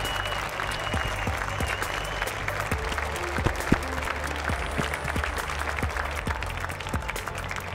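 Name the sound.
audience applause for a startup event panel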